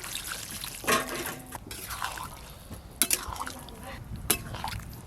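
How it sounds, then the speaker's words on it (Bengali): Water is poured into a chickpea and potato curry cooking in a pan, giving a soft, close trickle and splash with a few sharper clinks, quiet overall. "আমি একটু গ্রেভিটা বেশি রাখবো তাই জল একটু বেশি দেব"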